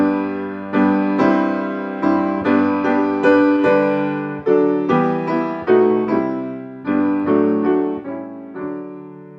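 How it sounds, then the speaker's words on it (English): The traditional Welsh hymn tune Blaenwern sounds as a steady run of full, sustained chords on a keyboard instrument, close and clear with no voices, each chord struck afresh and the phrase dying away at the close. "the traditional Welsh tune, Blaenwern, which sounds like this."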